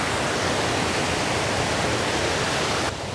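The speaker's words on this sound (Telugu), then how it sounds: "ఆడికెంచి ఈడు దాకా నీళ్ళు ముద్దుగా మత్తడి దుంకి ఏకదమ్మ అనిపిస్తున్నాయి" Water pours steadily over the overflowing spillway of Pocharam Dam, a loud, continuous roaring rush close by with no voices. It runs unbroken for about three seconds before cutting off abruptly.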